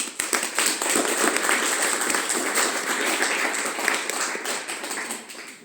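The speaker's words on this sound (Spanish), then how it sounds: "Despidámonos al doctor con fuertes palmas" Sustained audience applause for a lecturer at a linguistics conference, dense steady clapping that fills the hall, loud and continuous before slowly thinning out toward the end.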